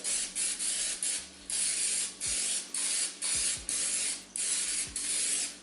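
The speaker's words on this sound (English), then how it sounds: "I'm gonna just use some canola spray and just spray the pan." Repeated short bursts of canola oil cooking spray onto a pan, about eight hissing blasts in quick succession, close and fairly loud, each separated by a brief pause.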